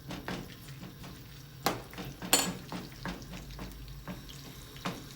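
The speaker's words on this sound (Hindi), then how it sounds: "तेल और मक्खन गर्म हो चुका है जी। अब इसमें कूटा हुआ लहसुन डालेंगे।" Crushed garlic dropped into hot oil and butter sizzles steadily up close, with sharp crackling bursts and light stirring clinks from the pan over the frying hiss.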